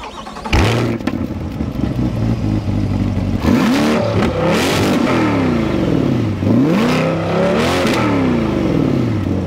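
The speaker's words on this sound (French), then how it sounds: "Niveau son, la Corvette a un son très américain. Ça sonne comme un bon vieux V8 américain." Chevrolet Corvette Z51 V8 engine revving loudly and close, with several rising and falling sweeps and a deep throaty burble between them, no talking.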